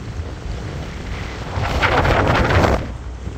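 Strong wind roars across the microphone during a barrel boat test on open water, a steady broadband rush that swells louder for a second or so, then eases back.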